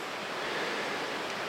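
Creek water rushes steadily and close by during a creek crossing in the high backcountry on a bear hunt, a continuous broadband wash with no voices.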